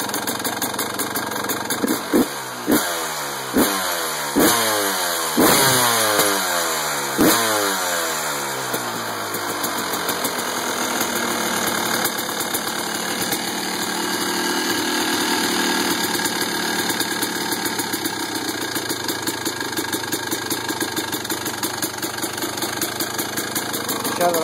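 A Yamaha YZ250 two-stroke dirt bike engine runs just after its first startup, beginning with a few sharp blips and revs, then settling into a steady, loud, close idle.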